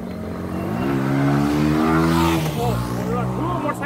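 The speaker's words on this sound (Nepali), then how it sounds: "मोटरसाइकल सानो भयो नि, आवाज चाहिँ एकदम ठुलो रहेछ।" A small but very loud motorcycle passes on the BP Highway, its engine note rising in pitch, then dropping and fading as it goes by, heard close and alone for about four seconds.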